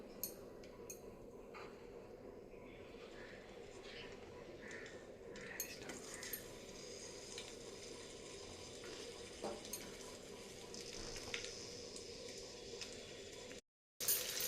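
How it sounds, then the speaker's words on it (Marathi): Green chillies sauté in a pan for khichdi, giving a faint, steady sizzle with occasional light clinks of a utensil. The sound stays quiet and even throughout, then drops briefly near the end. "आपल्या मिरच्या परतून झाल्या"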